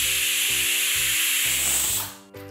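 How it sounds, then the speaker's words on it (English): A pressure cooker holding biryani on a high flame releases steam in a loud, steady hiss with a rhythmic low rattle beneath it, then the hiss drops away near the end. "we cook this under 3 whistles"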